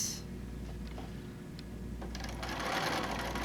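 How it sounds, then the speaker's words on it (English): A sewing machine runs steadily through a quarter-inch quilt seam, its close mechanical whir continuous and growing slightly louder toward the end, with no voices. "after I'm done sewing the seam"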